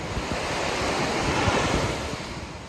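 Surf washes onto the beach at the Krisna Osea campervan park in Bali, a steady, full roar of breaking waves mixed with gusty wind buffeting the microphone, with no voices.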